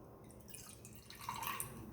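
Water is poured onto an absorbent sanitary pad in a product demonstration, giving a faint, close trickle with soft dripping, quiet and without talk.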